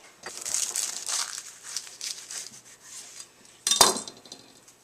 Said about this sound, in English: I actually want to cut one of these open so you can see what they look like.